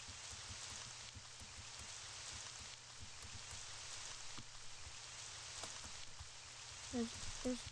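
Steady rain falls outside in the video game Autumn's Journey, a soft, even hiss of drops on surfaces with no one speaking, and a few faint blips near the end.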